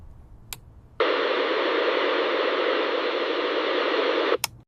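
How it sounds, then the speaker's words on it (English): Broadband radio static bursts on abruptly in a car and hisses steadily for a few seconds, then cuts off, with faint clicks just before and after. "Suddenly, the radio turned on by itself."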